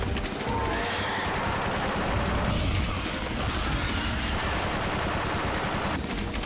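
Dense, continuous rapid gunfire from a movie shootout in the woods, a dense steady barrage of overlapping shots with crashes mixed in, loud and unbroken throughout.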